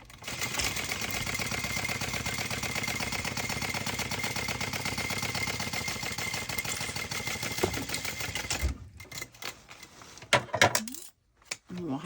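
Sewing machine stitching a half-inch seam on a Lucy tote bag, a fast steady mechanical whirr running for about eight seconds before stopping, followed by a few soft clicks and handling noises.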